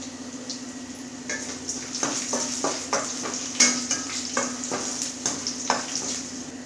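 Curry leaves fry in hot oil in a pan for a cluster bean stir-fry, a steady close sizzle broken by repeated scraping stirs of a spoon against the pan.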